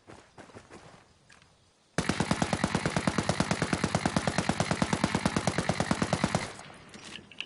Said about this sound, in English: So we'll go prone and shoot at that.